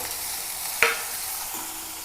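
Onion, green chili and crushed garlic frying in a pan give a steady, close sizzle, broken once by a brief clack of stirring, with no voices.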